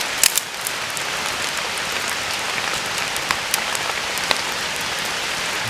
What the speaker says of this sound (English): I hope you guys can hear the rain in this video because it is literally pouring.